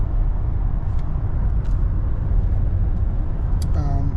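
Lexus LS460L fitted with a Magnaflow axle-back exhaust cruising on back roads: a deep, steady low-end drone and road rumble throughout, with a few faint high clicks and chirps above it.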